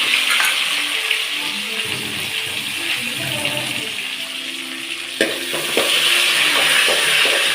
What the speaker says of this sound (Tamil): அதிலே கடுகு போட்டுக்கிறேன், வெந்தயம் போட்டுக்கிறேன்